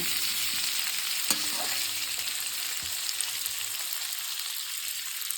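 Steady sizzling of amla frying with grated ginger in a hot pan, with a couple of brief stirring clinks, continuous and close with no talking.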